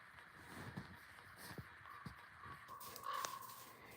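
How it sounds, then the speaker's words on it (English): Several harsh caws ring out from ravens and crows outdoors in Northern Michigan, scattered among faint rustling and footsteps, growing a bit louder near the end. "Here's the ravens. Ravens, crows."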